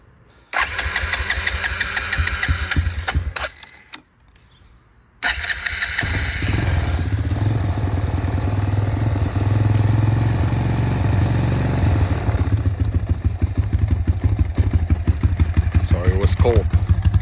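A Suzuki Quadsport LTZ-250 ATV, cold and not yet run that day, cranks briefly, stalls, then fires and settles into a loud, steady close idle with a faint rattle.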